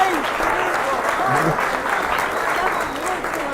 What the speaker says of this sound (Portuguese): Ela é filiada à missão, mais palmas aqui, cara.